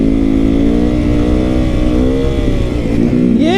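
A supermoto motorcycle engine idles loudly and close, then revs sharply upward in pitch near the end.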